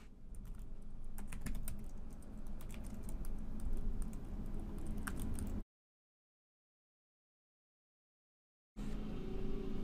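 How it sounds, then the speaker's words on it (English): Rapid clicking keystrokes on a computer keyboard as a command is typed, steady and close for several seconds, then a stretch of silence before the typing briefly resumes. "If you want, you can also type the command."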